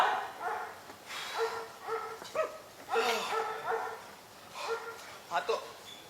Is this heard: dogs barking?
yes